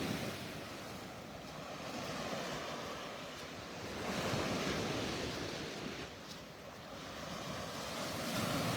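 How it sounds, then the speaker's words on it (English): Ocean surf breaks steadily on the shore at Delnor-Wiggins beach in North Naples, Florida, a continuous wash of waves swelling and easing, with some wind rumble against the microphone and no voices. "Just the sounds of Mother Ocean slapping on the shore."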